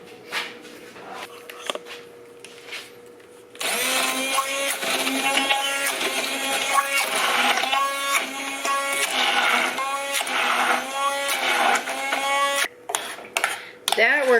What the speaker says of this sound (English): I am going to get my emulsion machine and make sure that this is pureed up really good.